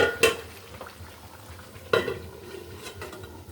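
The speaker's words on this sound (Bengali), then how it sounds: "মাংসটা ভালো করে কষিয়ে নিচ্ছি যেন ফ্লেভারটা ভালো আসে" Beef being braised and stirred in a cooking pot: two sharp metal clatters of a spoon against the pot stand out over a low, steady background, with softer scrapes in between and no voices.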